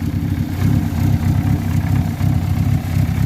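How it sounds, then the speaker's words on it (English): A modified 1986 Dodge Shelby Omni engine idles with a lumpy, loping rhythm, deep and close, its throbbing exhaust pulses loud and steady with no other sounds. "gotta love this, like that lopey sort of idle"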